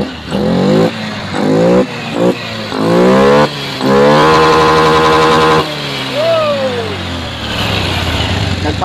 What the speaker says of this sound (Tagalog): Subukan natin i-rev.